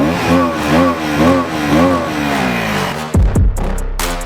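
A KTM Duke 160 motorcycle engine revs loudly and repeatedly up close, with several rising and falling throttle blips, then cuts to a few abrupt low thumps near the end.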